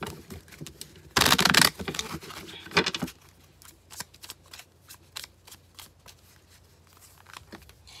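A tarot deck shuffled by hand: a loud riffling burst, a second shorter riffle, then a string of soft card taps and slides, close and without speech.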